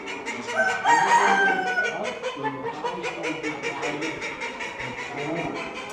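Chickens and a rooster at a small-animal show in Leingarten, with a loud nearby crow stretching through the first seconds, then steady clucking and scattered calls from many birds in a busy hall.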